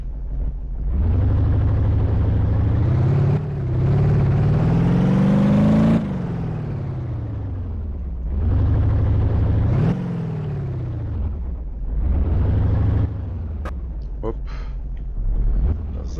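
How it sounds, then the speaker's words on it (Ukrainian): A car in the BeamNG.drive driving game creeps along slowly, its engine rumbling in several separate bursts with rising and falling pitch, separated by short quieter gaps. "Отак помалесенько їхати, старатися нікуди не впасти."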